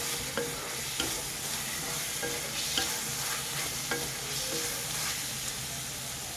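White vinegar and dark soy sauce are stirred in a hot pan for butter garlic paneer fried rice, giving a steady sizzle broken by light, regular spoon scrapes and taps.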